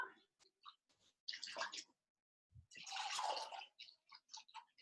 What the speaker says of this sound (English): I will just rinse the last of my culture out of the jar.